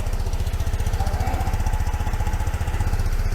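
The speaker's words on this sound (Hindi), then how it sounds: "इसका एग्जॉस्ट साउंड सुनो आप" A 2024 TVS Jupiter scooter engine idles close by with a rapid, even putter from the exhaust, steady throughout.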